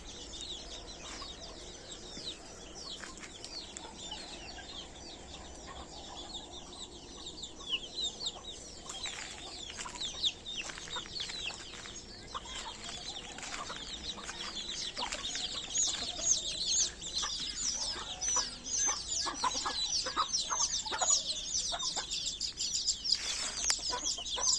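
A farmyard rooster and hens cluck and call continuously at a household poultry pen, moderately close, with chirping birds around and no talk.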